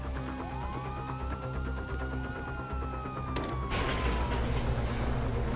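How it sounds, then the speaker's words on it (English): Police sirens in the video game GTA 5 wail with rising and falling tones over steady in-game engine rumble, with a sudden burst of louder noise near the end. "Oh, fuck, you hear that? Sirens!"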